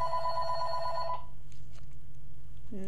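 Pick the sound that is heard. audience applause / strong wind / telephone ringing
telephone ringing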